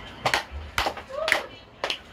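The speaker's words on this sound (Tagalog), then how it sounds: "Bigyan nyo natin ng 3 palakpak si Ana." A class gives three claps for a student, with four short, sharp claps spaced about half a second apart at close range in a classroom, a brief voice sound between them.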